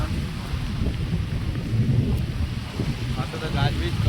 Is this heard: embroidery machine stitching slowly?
no